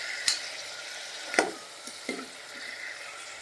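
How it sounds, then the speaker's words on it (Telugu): A spoon stirs vegetable sambar with salt in a cooking pot, giving three short scraping strokes spaced about a second apart over a low kitchen hiss, with no talking. "ఇది బాగా కలిపేస్తున్నాం."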